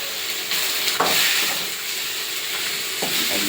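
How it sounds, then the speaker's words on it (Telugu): Tomatoes with onion, turmeric, salt and garlic fry in a pan, giving a steady loud sizzle and hiss throughout, with a few brief stirring scrapes breaking through. "బాగా వేగిపోయింది టమాటా అంతా"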